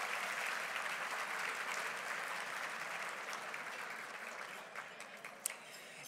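Dinner guests at the Scotiabank Convention Center give a round of applause that starts full and gradually thins out, ending in a few scattered claps and a faint clink near the close.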